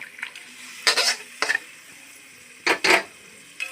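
Fried cauliflower and potato pieces tipped into a simmering curry for rohu fish, heard as a few short bursts of clattering, scraping and splashing against a pan over a quiet background.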